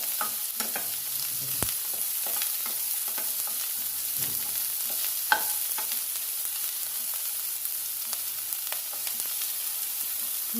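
Grated radish fries for a chutney in a hot pan, a steady close sizzle with occasional stirring scrapes and small clicks, no voices.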